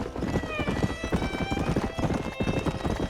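Steady clip-clop of horse hooves on a dirt trail in the video game Red Dead Redemption, even rhythmic hoofbeats at a moderate distance, with a brief whinny and people talking over the riding.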